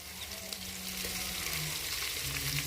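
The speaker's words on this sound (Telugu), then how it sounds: "ఇప్పుడు ఆయిల్ పోసుకుందాం. శనగ నూనె అనమాట," Onions and green chillies frying in peanut oil for an eggplant, drumstick and chicken curry, a steady close broadband sizzle that holds evenly throughout with no talk.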